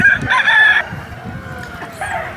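An eleven-month-old Kaki Nemali fighting rooster, about three kilos, crows loudly and close by at the Nallapadu rooster market, with a second shorter call near the end over busy crowd background noise.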